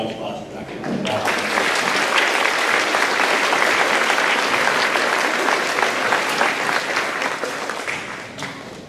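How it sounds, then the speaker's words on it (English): Graduation ceremony audience bursts into loud, dense applause that holds steady for several seconds before tapering off. "Ladies and gentlemen, take a round of applause for Dr. Brown."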